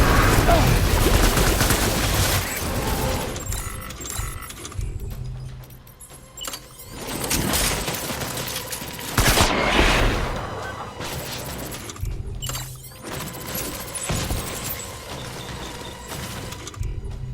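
Gunfire rattles through a firefight in Death Stranding, loud bursts of rapid shots and crashes rising and falling over a continuous roar of battle noise.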